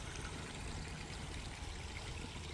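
Water in a small garden brook trickles and bubbles over stones down into a pond, a soft, steady babbling flow heard alone at low level.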